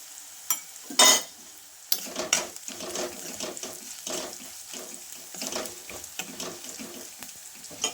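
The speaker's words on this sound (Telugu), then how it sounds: "కచ్చా పచ్చాగా దంచుకున్న ఎల్లిపాయ కూడా వేసుకొని ఫ్రై చేసుకోండి" Crushed garlic fries with fenugreek in a pan, a light sizzle broken by sharp clinks and scrapes of stirring that come in irregular bursts, close by, with no speech.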